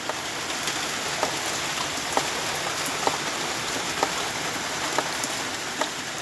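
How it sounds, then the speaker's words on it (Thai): Steady rain pours over an open rice paddy in the Thai countryside, a dense even hiss with faint scattered drop ticks, no voices. "ฝนตกอยู่กลางทุ่งนา"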